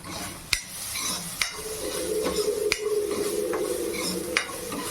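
A spatula stirs capsicum and tomatoes in a hot pan, scraping with sharp clicks against the metal every second or so over a steady, soft sizzle.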